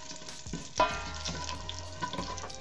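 Spices for an Ayurvedic healing soup sizzle softly in a pan while being stirred, with a continuous low crackle, a sharp clink of the spoon against the pan, and light scraping, close and fairly quiet.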